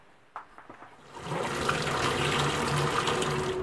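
A water jet blasts through the transfer ports of a Honda NSR 125 two-stroke cylinder during cleaning, starting after a few small knocks and then holding as a steady, close, rushing spray.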